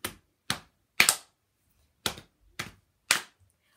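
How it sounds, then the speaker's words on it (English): Hand claps by children at a church toddler group, six sharp separate claps in an irregular rhythm with short silences between them, close and fairly loud, one doubled. "Clapping hands at the ready."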